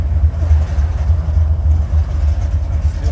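A Buick 455 V8 in a Regal idles close by. Its deep, even lumpy rumble pulses steadily and fairly loud for the whole stretch, with no talking over it.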